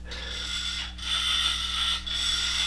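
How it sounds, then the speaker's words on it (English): Friction motor of a tin toy fire truck whirring steadily with a buzzing, ratcheting grind that swells twice, close and fairly quiet. "you can hear the friction motor in it"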